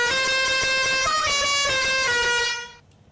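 A truck horn in the Indian GTA game blares in one long, loud, steady honk that cuts off near the end, leaving quiet.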